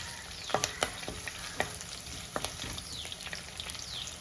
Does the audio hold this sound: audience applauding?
no